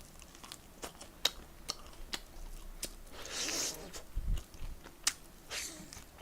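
Someone eating Goobne Gochu Basasak fried chicken with crunchy bites and soft chewing close up, separate crisp crackles spread across a few seconds, a voice briefly heard between them.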